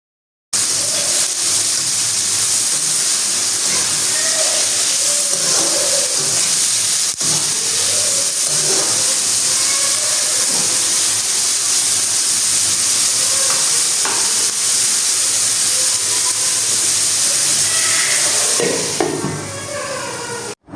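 Onions sizzle steadily in hot oil in a home kitchen, a constant frying hiss with occasional stirring scrapes, then a brief clatter at the close.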